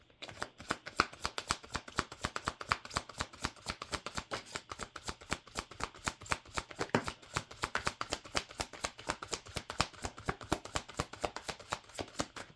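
Tarot cards shuffled by hand up close, a rapid run of crisp riffling flutters and soft slaps repeating steadily for over ten seconds, no voices.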